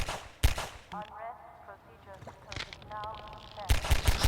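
Gunfire from enemies being shot in the video game Half-Life 2: a loud burst of shots at the start, then several sharp shots close together near the end, with game voices talking in between.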